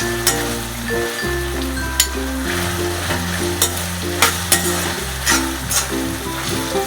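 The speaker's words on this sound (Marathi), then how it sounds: "आपण भाज्या टाकूया त्याच्यामध्ये" Mixed vegetables frying in a pan with softened onion and red tomato, a steady close sizzle with scattered clinks of stirring, no voices.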